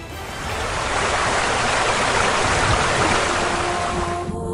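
Strong, steady rush of falling water at a waterfall, a dense continuous roar that holds loud and even for several seconds before easing off at the end.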